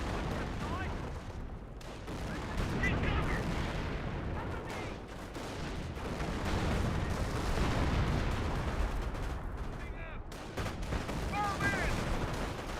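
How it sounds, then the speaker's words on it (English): Squads and Rangers fire guns in the video game Company of Heroes, a steady dense clatter of battle gunfire with scattered impacts running throughout at moderate level. "Our squad and the Rangers firing away."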